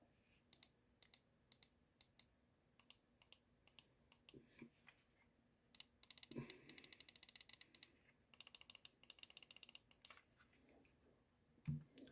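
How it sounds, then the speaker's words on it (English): Asus TUF M4 Wireless gaming mouse with GM4 switches clicking close up, first in single spaced crisp clicks, then in fast bursts of rapid tactile clicks, fairly quiet. "here's the Asus TUF M4 Wireless, which comes from the factory with GM4s"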